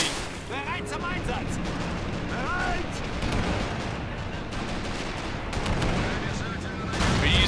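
Artillery and small-arms fire crackle through a MOWA2 battle: rapid bursts, repeated booms and whistling shells in a continuous barrage, with players' voices mixed underneath.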